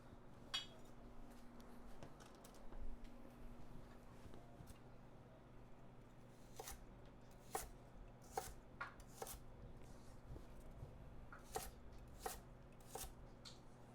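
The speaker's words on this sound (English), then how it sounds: "let's cut the celery up first. Go like a finer dice on this sort of soup stuff" Knife chopping celery into a fine dice on a cutting board, a quiet run of crisp, sharp taps that grows quicker and more regular in the second half.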